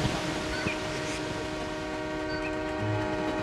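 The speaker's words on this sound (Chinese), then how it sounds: "这条上学的路，一路上都能听见平西线火车的声音" A Pingxi Line train rumbles along the track in the hills, a steady low mechanical drone with humming tonal lines and faint clanks, heard continuously at a moderate distance.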